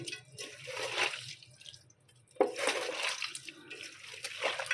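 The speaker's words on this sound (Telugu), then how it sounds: "బాగా శుభ్రంగా కలుపుకొని వాష్ చేసుకోవాలి" Goat tripe being washed by hand in water, with close splashing and sloshing in two or three bursts separated by a brief quiet gap.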